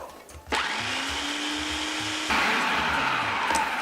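A blender whirs steadily as it purees chopped pitted dates with a spoonful of date water, a loud continuous motor drone that starts abruptly and shifts to a higher, harder pitch partway through.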